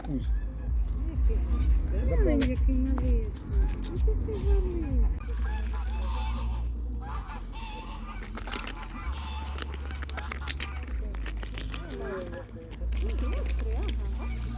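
Geese honk several times close by in a park in Dnipro in the first half, followed by clicking and rustling handling noises, with a voice speaking nearby.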